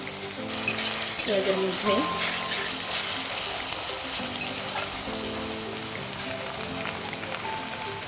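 Ginger garlic paste sizzling and frying in hot oil in a pan while a mutton gravy is being made, with steady crackling and a brief spoon stir, as a voice speaks briefly over the cooking.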